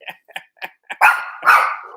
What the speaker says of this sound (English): They're very well trained dogs, these guys.